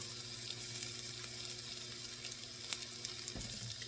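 Garlic sizzles and fries in a hot pan, a steady close crackling hiss with a few sharper pops and a faint stir near the end.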